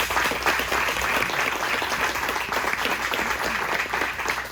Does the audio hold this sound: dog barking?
no